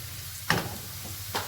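Sambal embe with eggplant frying in hot oil, a steady sizzle with two brief louder bursts as the food is stirred, close and alone.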